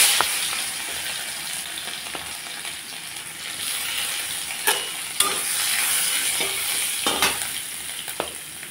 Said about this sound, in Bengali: শুটকি মাছ ভাজা তেলের উপরে দিয়ে দিচ্ছি থেতো করা রসুন